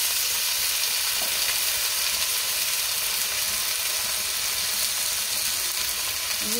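Mixed vegetables hit hot oil already seasoned with fried cumin seeds and green chillies, producing a loud, dense, steady sizzle that fills the whole stretch, with a faint clink near the end and no talking.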